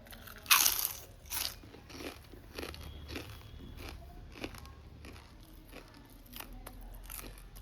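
Sabudana papad crunched close up, a sharp loud bite early on followed by a string of softer crisp crunches and chewing.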